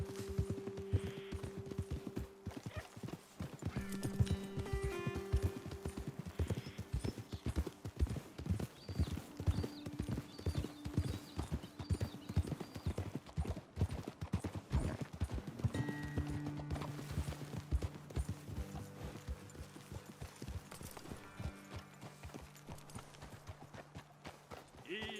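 Horse hooves clip-clop steadily on the ground in Red Dead Redemption 2, a continuous walking rhythm of several horses heard under game dialogue and light music.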